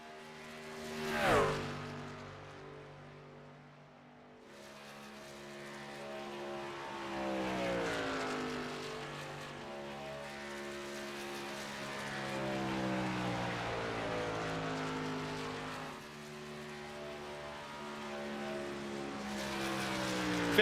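Race trucks lap an oval track in a racing video game set at Chicago. A steady engine drone rises and falls as the trucks pass, and a brief louder sweep near the start suggests a close pass-by.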